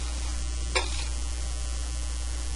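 Drywall joint compound is stirred and mixed in a bucket, producing a low, continuous churning texture with one brief scrape, all over a steady electrical hum and no talking.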